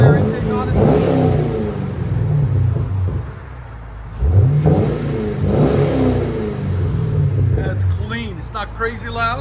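2014 Chevy Camaro 2SS with a 6.2L V8 and Magnaflow exhaust revs in two rising-and-falling bursts, a deep, loud engine rumble with voices talking over it.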